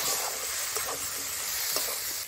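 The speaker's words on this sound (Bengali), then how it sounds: "কেটে রাখা আলুগুলো দিয়ে দিচ্ছি, নাড়িয়ে একটু ভেজে নেব।" Potatoes and chopped tomatoes fry in a pan, a steady close sizzle with a few soft scrapes of stirring, no voices.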